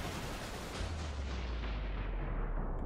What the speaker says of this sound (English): The world is exploding as I play it.